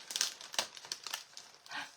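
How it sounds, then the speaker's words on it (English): Paper stencil lettering torn and crumpled by hand, a close run of crisp rips and crinkles in uneven bursts, with no speech over it. "I'm tearing this all up."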